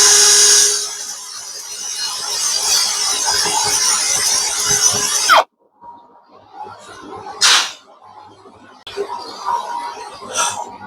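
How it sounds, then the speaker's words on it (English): Drill boring a pilot hole in metal with cutting paste for an auger extension: a loud steady whine for about five seconds, then quiet with a few brief sharp bursts. "Our pilot hole is drilled."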